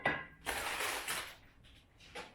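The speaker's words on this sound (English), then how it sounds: "Give this a stir." Rigatoni is stirred in a pot of salted boiling water, giving a few clattering, scraping strokes of a utensil against the pot, loud at first and then fading into lighter taps.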